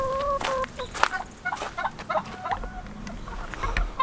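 Backyard hens cluck in a run of short, repeated calls, with a few sharper squawks scattered through the four seconds and a low outdoor hum underneath.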